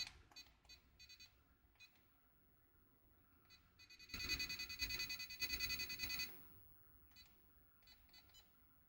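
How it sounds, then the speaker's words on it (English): Quiet electronic beeps chirp in scattered short bursts, joined midway by a louder, denser two-second run of rapid beeping before the sparse chirps resume. "just listening to beeps"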